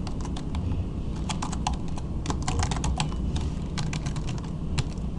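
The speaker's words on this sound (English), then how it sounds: "here, type your Skype name or email address." Rapid keystrokes on a computer keyboard while entering a Skype name or email address, a steady run of close clicking taps continuing across the whole stretch with no voices.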